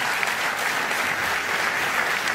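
A large crowd at a political rally in Vallauris applauds with a thick, continuous wash of clapping, loud and even from start to finish with no voices standing out.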